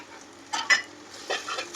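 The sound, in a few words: stirring spices into Maggi noodles in a pan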